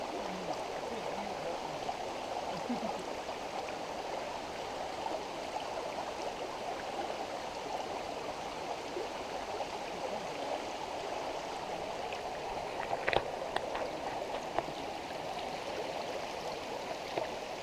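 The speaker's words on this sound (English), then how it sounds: "I think this is one of the creeks we've been following, going back and forth the side of it" Creek water along the Appalachian Trail flows in a soft, continuous wash and gurgle, faint and steady, with a couple of brief clicks near the end.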